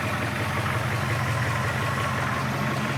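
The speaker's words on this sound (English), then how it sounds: "Engine runs nice and smooth" A stock 1967 Ford Mustang coupe's 302 V8 idles smoothly, a steady low rumble held close and even throughout.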